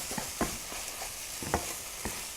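Pad thai noodles with sauce are stirred in a hot pan, giving a faint continuous sizzle broken by a few soft scraping strokes of the utensil.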